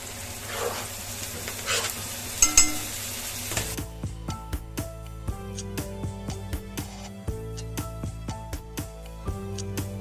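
Tomato goes into softened onions frying in a pan for a wet shrimp masala: an initial sizzle with a clink, then a quieter stretch with irregular light taps and scrapes of a spatula, close by.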